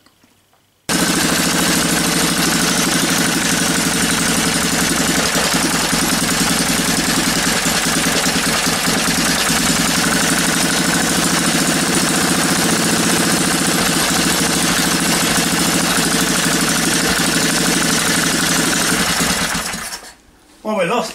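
A small engine runs steadily outdoors in the snow, a loud, even mechanical drone with a fast repetitive chatter that holds for about twenty seconds before cutting off abruptly near the end.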